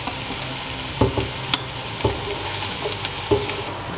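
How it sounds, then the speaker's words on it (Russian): Steady sizzling of onion and minced meat frying in a pan, with a few sharp clicks and scrapes of stirring scattered throughout; no voices. "Лук жарим до полупрозрачности, затем отправляем к нему фарш."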